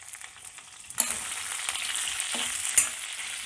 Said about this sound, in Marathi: कांदा आणि सिमला मिरचीला काही परतायला फार वेळ लागणार नाही आहे.